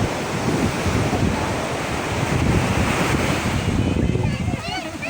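Sea waves rolling in at a free public beach near San Ramon, a steady loud wash of surf with wind buffeting the microphone throughout, close and continuous.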